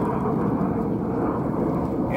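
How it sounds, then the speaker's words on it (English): Low, steady rumble of an airplane passing overhead outdoors, a loud continuous roar that holds unchanged with no talk. "It's got a plane going by, so it's a little loud."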